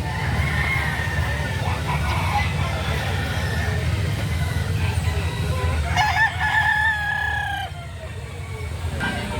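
Bull stag gamecock crowing at a chicken market: a loud, drawn-out crow rises over a constant crowd and market murmur, with other birds and faint voices in the background.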